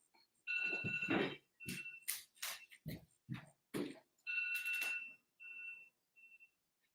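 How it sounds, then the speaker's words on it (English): An alarm beeps and rings in several bursts over about six seconds, loud and close, with short gaps between rings and fading to a few faint tones at the end; no talk over it. "my alarm is going off"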